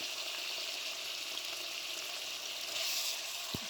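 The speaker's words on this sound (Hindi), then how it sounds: "अब मैं ऑयल में ऐड करूँगी लहसुन और अदरक का पेस्ट 1 चम्मच, और इसमें ऐड कर दूंगी चिकन।" Chicken frying in oil with a spoonful of garlic and ginger paste for restaurant-style chicken fried rice, a steady close hiss and sizzle throughout with one brief clack near the end.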